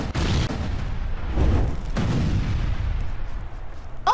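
Weapon blasts from a Worms video game go off as heavy booming explosions, three or four loud bursts spaced through the clip with rumbling decay between them, no voices.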